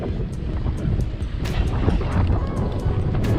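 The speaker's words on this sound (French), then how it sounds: "On se ramasse le vent en pleine face depuis quelques kilomètres là, ça fait pas du bien, il est bien froid." Cold headwind buffeting a cyclist's microphone on a bike path, a continuous low roaring gust noise with irregular thumps and rumbles, steady and close.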